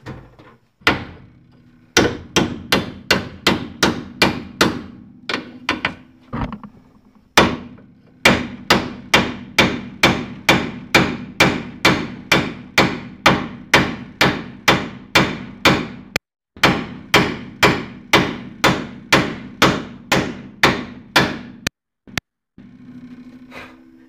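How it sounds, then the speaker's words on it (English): Repeated hammer strikes on a piece of steel being tapped into place during a Jeep Cherokee ball joint replacement, loud close sharp blows in a steady rapid rhythm with a few short pauses, no talking. "I'm just gonna basically tap that into place with a hammer."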